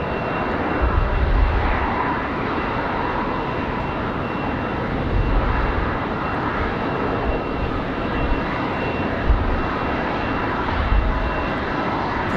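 Republic Airways jet idles and taxis toward departure at Raleigh-Durham International on a windy day, a continuous broad engine roar heard from a distance with gusty wind buffeting throughout.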